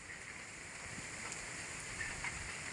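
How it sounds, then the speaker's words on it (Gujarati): Light rain begins in the Gir forest area during the monsoon, a faint, steady patter that holds evenly throughout with no talking. "धीमा धीमा साटा शुरू थई गया छे"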